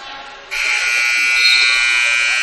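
A loud, sustained electronic buzzer at a high school girls' basketball game blares over faint crowd noise and a voice, holding steady for a couple of seconds.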